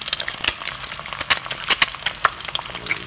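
Eggs frying in cooking oil in a pan, a loud, close, continuous crackling sizzle with dense spattering pops and no voices.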